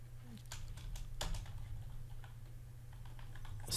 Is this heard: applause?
no